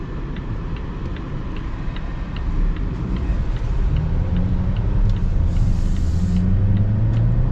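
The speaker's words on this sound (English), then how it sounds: "there's so much more traffic down here than there usually is" Steady low road rumble from inside a 2026 Volvo XC90 B6 with a four-cylinder engine, with passing traffic swelling louder midway and a faint ticking through the cabin.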